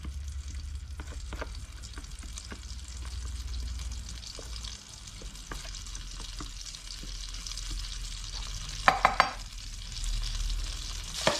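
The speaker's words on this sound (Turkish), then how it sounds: "Bol yağda kızartmanız gerekiyor." Pike fillets fry in a pan of margarine topped up with vegetable oil, giving a continuous sizzle broken by occasional stirring scrapes and a few louder clatters near the end, with no voices.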